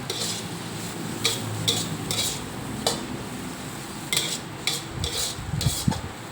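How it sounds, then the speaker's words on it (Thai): Bitter melon and egg are stir-fried with chili in a pan. A spatula scrapes and clinks against the metal in a quick, uneven series of strokes over a soft, steady sizzle, close by. "เราก็มา ผัด ใส่ไข่แบบนี้นะคะ"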